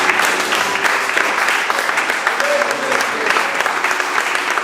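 A church congregation at a French-language worship service applauds and cheers in loud, steady clapping that fills the whole stretch without a break.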